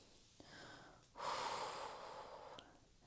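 A person breathes in during a seated chair workout for the lower body, a close, audible breath that swells and then drains away over about two seconds, with a shorter breath just before, with no speech.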